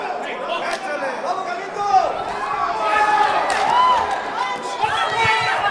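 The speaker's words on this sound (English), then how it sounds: "And the crowd, they're loving the underdog" A boxing crowd roars and chatters throughout, a loud continuous arena din swelling in the middle, with a commentator's voice running over it.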